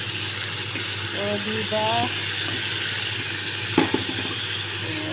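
Adobong sitaw, string beans adobo seasoned with Maggi powder, is stirred in a pan over a steady low frying hiss, with a clatter near the end and brief talk in the middle.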